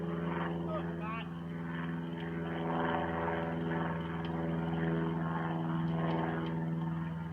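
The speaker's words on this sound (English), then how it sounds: "No, it's a white airplane." A propeller airplane drones steadily overhead near a sand hill used for dirt bike hill climbs, a continuous tonal hum with people talking over it.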